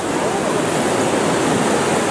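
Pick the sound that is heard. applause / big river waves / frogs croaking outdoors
big river waves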